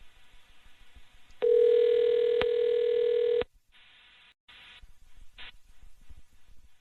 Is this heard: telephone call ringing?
yes